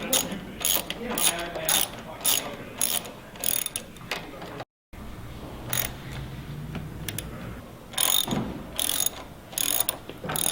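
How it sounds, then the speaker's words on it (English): Ratchet wrench clicks in quick repeated bursts while bolts on a GigaCycle inverted bicycle front end are snugged down, close and crisp with brief pauses between strokes and no talk. "Hit them with your wrench, snug them down."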